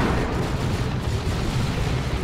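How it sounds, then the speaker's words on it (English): Manticore missile strike landing in Dawn of War 2, a continuous heavy rumbling barrage of explosions, thick and loud throughout with no pauses. "Manticore strike goes in. And down it goes."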